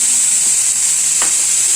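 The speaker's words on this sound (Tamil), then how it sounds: "இது நல்லா வதங்கட்டும்." Potato pieces sautéing in about two spoons of oil in a pan, giving a steady bright hiss of sizzling that runs unbroken from start to end, close and fairly loud, with no voices.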